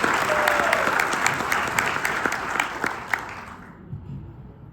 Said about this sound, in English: appreciate that applause